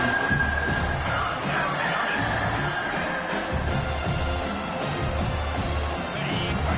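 Stadium crowd noise and cheering on a big third down in an American football video game, a continuous roar with rising swells behind the play.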